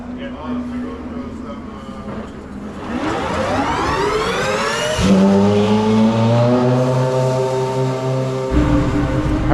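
A Lamborghini Le Mans hypercar on the track at Austin, Texas, its engine revving and climbing through gears, rising pitch then shifting down, fairly close, with a voice talking over it.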